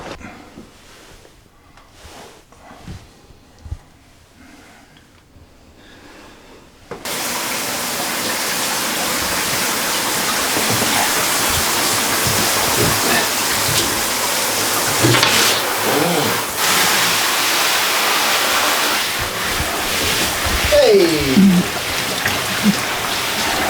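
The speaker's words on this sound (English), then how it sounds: "Showering, obviously the splashes are running down here and they're falling out of here." A shower runs and water splashes heavily, beginning abruptly after a few quiet seconds and then continuing as a loud, steady, close hiss of spray and drips through to the end.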